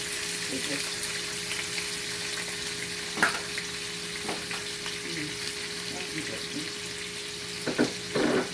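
Onions hit hot oil with a loud, continuous sizzle and are stirred with a ladle, giving scattered scraping clinks and splashes over the frying hiss.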